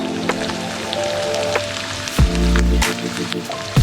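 Two large onions, about 200 grams, with salt frying in a pan for prawn roast, a soft continuous crackle with occasional louder pops and a brief scrape partway through.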